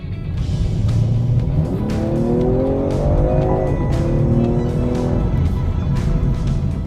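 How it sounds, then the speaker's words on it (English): A BMW M340i xDrive accelerating hard, its engine note loud and close with a deep, growly rumble that rises steadily in pitch, dips briefly as if through a gear change, then climbs again. "The note that you get from the engine is just so fantastic. It's growly, it's satisfying, it's got this deep rumble"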